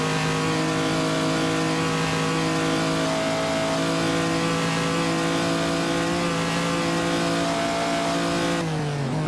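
A postwar race car engine in the Assetto Corsa racing game on the 1949 Noris-Ring circuit, a loud sustained drone at high revs that holds steady before dipping as the gear changes near the end.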